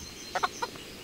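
Chicken clucking in the medieval role-playing game Kingdom Come: Deliverance, three or four short, close clucks in quick succession, heard alone over a quiet background.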